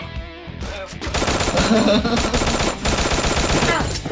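Rapid automatic gunfire from the mobile battle-royale game Free Fire, including an XM8 and an AK, crackles loudly in sustained bursts with a short pause, with a voice faintly talking over the game sounds.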